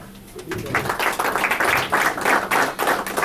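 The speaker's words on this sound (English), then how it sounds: "Please give him a round of applause" Audience giving a round of applause at a town Q&A meeting in West Orange, New Jersey, steady dense clapping that builds and holds for the full stretch, with faint voices underneath.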